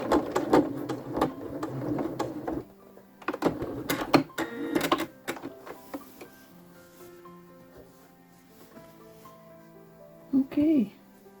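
A sewing machine makes a few short bursts of back stitches through a thick quilt, straining at times, with clicks and handling noises in between; a person talks over parts of it.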